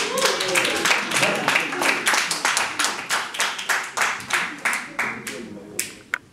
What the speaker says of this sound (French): Qui va applaudissez.